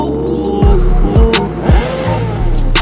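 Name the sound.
quad bike engine revving in the Marrakech desert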